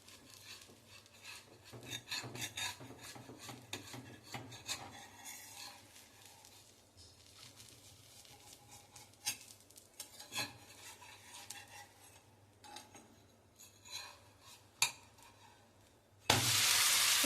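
Butter sizzling under a soft sponge dosa on a hot pan: a faint, steady crackle mixed with scraping spatula strokes, then a sudden loud burst of noise right at the end.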